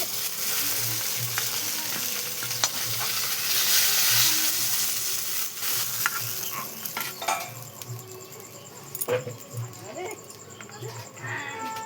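Mustard fish frying in hot oil in a Bengali home kitchen, a steady close sizzle that runs throughout and eases later, with a voice talking over it and occasional clinks of utensils.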